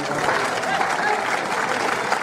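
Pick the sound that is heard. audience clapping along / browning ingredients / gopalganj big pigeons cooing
audience clapping along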